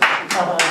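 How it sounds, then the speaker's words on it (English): A short burst of hand clapping from a small group of people giving a round of applause, loud and close, coming in two or three quick surges of claps. "Round of applause for everybody."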